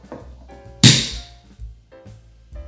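A bottle of Brut sparkling wine is opened with a single sharp cork pop, followed by a few soft handling thunks.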